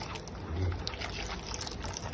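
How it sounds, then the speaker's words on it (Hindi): Plain water poured into falsa fruit paste for sharbat, a steady low trickle and splash close by, with a faint voice in the background. "अब इसमें हम थोड़ा सा सादा पानी डाल के तो इसको कर लेंगे।"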